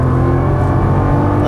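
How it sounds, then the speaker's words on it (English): A Nissan GT-R's engine pulls hard at full throttle out of a corner on a race track, with a loud, steady, close roar that holds for the whole moment. "And accelerate coming out. Full throttle."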